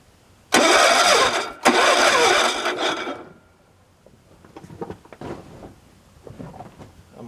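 Battery-powered log splitter cranked up, giving two loud bursts of motor roar back to back, then settling into quieter uneven knocks and rubbing of the machine at work.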